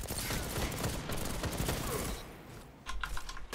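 A rapid-fire pulse rifle of the Outlast Rapid-Fire Frame firing in the video game Destiny: a dense, loud stream of shots, a short lull, then more quick bursts.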